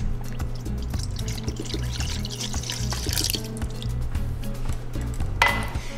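About a cup of vanilla-flavoured almond milk poured into a bowl, a steady soft liquid trickle with some dripping, close and fairly quiet under faint background hum, ending with a brief brighter splash.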